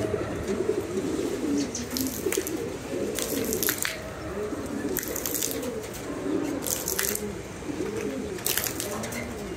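Thirsty pigeons at a loft coo in overlapping low, rolling phrases, close and continuous, with occasional sharp clicks and wing rustles mixed in.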